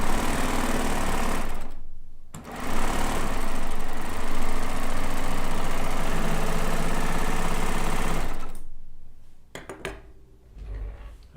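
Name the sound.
sewing machine running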